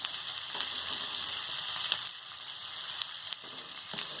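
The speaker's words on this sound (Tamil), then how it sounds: "அப்படியே கொஞ்சம் ரொட்டேஷன் பண்ணி விடுவேன். கொஞ்சம் நல்லா ஃப்ரை ஆகிடுச்சுங்க" Pieces of sardine (mathi) fish fry in a pan with a bright, continuous hiss and crackle, fairly quiet and steady, broken by a few faint ticks and light taps.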